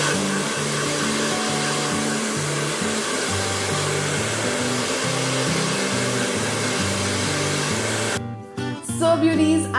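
A hair dryer blows steadily and loudly on freshly dyed teal hair, a constant whirring roar that cuts off abruptly near the end, leaving brief quieter handling noise.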